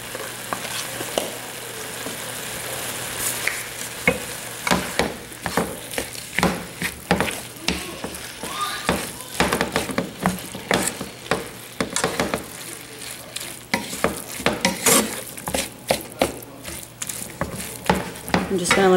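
Ground hamburger meat sizzles in a pan while being stirred, a continuous frying hiss broken by repeated scraping and clacking of the utensil against the pan.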